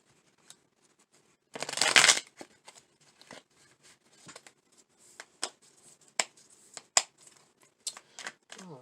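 Tarot cards being shuffled by hand, a dense burst of riffling around the second second followed by scattered crisp taps and flicks of the deck, close and fairly quiet with no talking.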